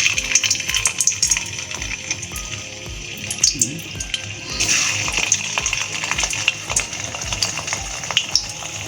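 Chhana bora, balls of fresh cottage cheese, sizzle in hot oil, giving a steady, close hiss with small crackles and pops throughout.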